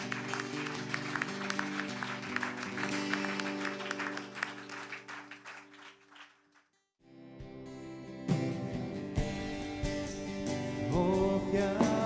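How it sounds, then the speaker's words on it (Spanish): Church congregation applauding after a sermon, broadband clapping sustained under sustained organ or keyboard chords, briefly dropping near silence midway before resuming with music and clapping. "Otro aplauso a Él, por favor."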